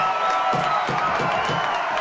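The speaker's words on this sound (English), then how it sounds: "The courtroom went wild when Mr. Malone finished." Courtroom crowd in a radio drama cheering and applauding after a lawyer's closing argument at the Tennessee monkey trial, a dense, steady roar of voices with rhythmic claps and whoops throughout.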